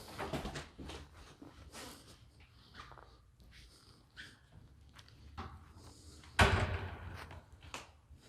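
A church door between presbytery and church is handled with clicks and creaks, then a loud thud as it swings shut, close by with shuffling in between.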